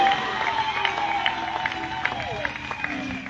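A congregation at an evening evangelism campaign session in Kinshasa cheers and acclaims steadily, a dense crowd roar with scattered shouts and some clapping, loud and continuous throughout.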